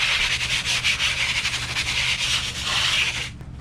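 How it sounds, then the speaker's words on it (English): A 40-grit sanding block rubs back and forth over a wooden bevel on a wood toolbox kit, a close, loud run of rhythmic scratchy strokes that stops abruptly at the end. "I'm taking 40 grit on just a little sanding block and just cleaning up that bevel"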